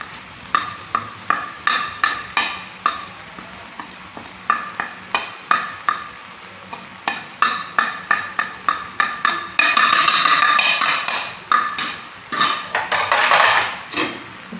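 Turmeric, Kashmiri chilli powder and salt are stirred into avial in a pan, a spoon scraping and clinking against the metal in a quick, steady rhythm, with a denser rustling burst midway and no voices.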